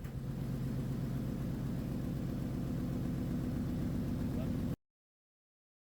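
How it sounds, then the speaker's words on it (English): A 2005 Ford F250 Super Duty truck engine idles with a steady, close, low rumble and whir, then cuts off abruptly into silence. "You can't hear the audio over the engine noise"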